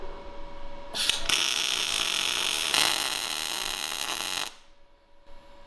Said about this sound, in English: We'll go ahead and weld this real quick.